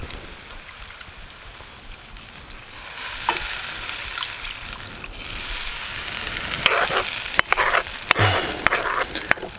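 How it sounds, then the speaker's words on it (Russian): Water poured into a hot pan of risoni with blewit mushrooms after white wine has cooked off, a soft hiss and sizzle that builds to a louder bubbling with a few sharp clinks near the end. "Все, вино выпарилось, так что добавляем воду."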